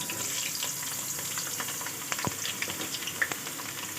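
Onions frying in hot oil in a pan, a continuous crackling sizzle with scattered sharper pops and a few light clicks, fairly close and steady with no voices.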